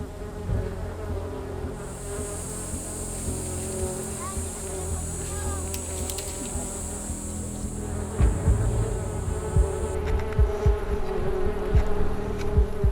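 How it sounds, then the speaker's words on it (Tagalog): Dense, continuous buzzing of a honeybee swarm around a low hive in a forest, close and steady, with a high whine overhead for a while and some rustling and handling sounds later. "mabilis na kumalat ang mga bubuyog sa iba't ibang bahagi ng gubat."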